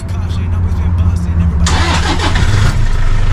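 A Toyota Hilux Vigo Smart Cab turbo diesel engine cranks and fires up nearby, a low chugging turnover that catches into a loud rough idle, with someone speaking over it.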